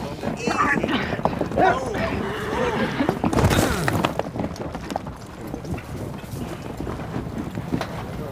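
Horse hooves clop over rough ground amid wind and movement noise in a western film scene, with a brief whinny partway through and a voice speaking.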